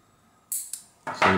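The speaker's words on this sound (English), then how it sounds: "with the other wire that you cut, is cut that in half also" A wire being snipped in half: a couple of quick, crisp metallic clicks and cuts, close and brief, in an otherwise quiet room.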